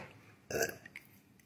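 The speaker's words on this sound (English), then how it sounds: "Did you just burp?" A single short, close burp from a dog, sharp and brief, followed by a faint trailing sound against quiet background.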